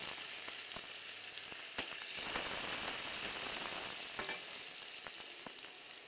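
Dried chilli, nigella seeds, garlic and ginger sizzle in hot oil in a kadai, a steady close hiss with scattered crackles and pops throughout.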